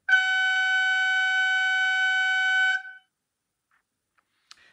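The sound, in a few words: Märklin Köf 2 model locomotive signal horn sound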